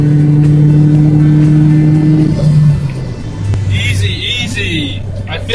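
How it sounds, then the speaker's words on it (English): Supercharged Suzuki Jimny JB74W with an HKS GTII supercharger accelerating to overtake, a steady loud engine drone climbing then easing off as it passes, heard from inside with a voice talking over it. "I do feel that supercharger kicking in as the RPM gets higher"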